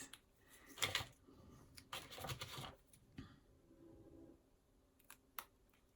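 A paper leaf is cut with scissors in a few quick, close snips and rustles, brief crisp bursts separated by quiet pauses, with no talking.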